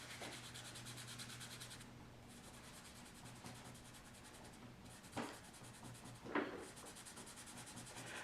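A soft charcoal pencil is rubbed and blended across paper, giving a quiet, steady scratchy rasp with a few brief louder strokes over a faint background hum.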